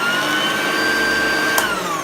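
A 1974 Hoover Junior 1346A upright vacuum cleaner runs close and loud with a steady motor whine and airflow roar, unbroken throughout apart from a brief small tick near the end.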